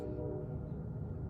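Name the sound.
train passing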